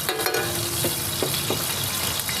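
Oil sizzles and fries steadily on a large flat tawa at a roadside pav bhaji stall, a dense continuous hiss up close, with a few light clinks and scrapes over it.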